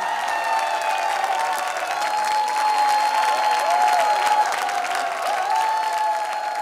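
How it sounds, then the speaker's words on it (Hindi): Sustained audience applause fills a dance competition stage show in a village setting, a steady dense wash of many hands clapping at moderate loudness throughout, with faint cheering mixed in. "एक बार ताली तो बजा दे।"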